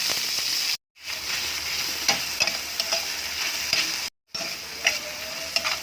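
Onion and tomato sauté in a hot pan for a mung bean stew. A steady, close sizzle runs under repeated spatula stirs and scrapes, broken by two brief silent gaps.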